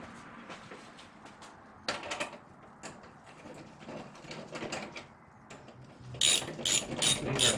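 A ratchet wrench tightens 13 mm fender bolts on a Datsun 510, its pawl clicking in quick close bursts that grow louder and faster toward the end.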